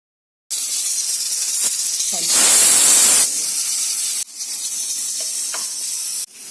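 A pressure cooker cooking cowpeas with salt, turmeric, chilli powder and water vents steam in a loud, steady hiss that swells to a sharper burst midway, then carries on, close by with no talk.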